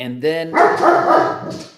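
Dog giving a couple of sharp, close yips and barks, quickly followed by someone talking over a fainter whimpering sound.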